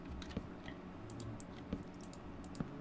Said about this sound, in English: I bet you can hear my mouse clicks